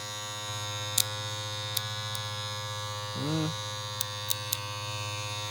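A steady electric buzzing hum of Kemei 2850 cordless hair clippers running continuously, with a few sharp clicks and a brief rising whine partway through.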